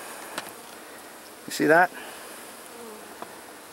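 Honey bees in a hive box during an October mite treatment make a brief buzzing burst at close range, with a little quiet talk and soft handling noises around it.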